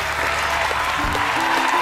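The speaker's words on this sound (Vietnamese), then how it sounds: "vỗ tay cho gia đình luôn" Studio audience applause on a televised family matchmaking show, a brief burst of dense clapping with a low musical tone running underneath.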